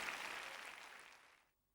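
A sermon audience's applause, a brief fairly faint wash of clapping that holds steady and then dies away into silence.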